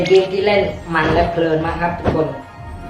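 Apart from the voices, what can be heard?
No everyday noises stand out.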